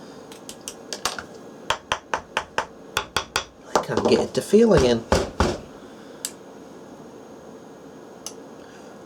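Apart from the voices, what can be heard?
relays clicking in APS 3005 power supply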